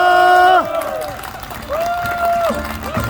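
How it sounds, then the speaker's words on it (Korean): A crowd at an SPC labor solidarity rally claps and cheers loudly for a union leader ending a hunger strike. Several voices shout and whoop over the clapping. "사랑이 담긴 큰 박수 부탁드리겠습니다."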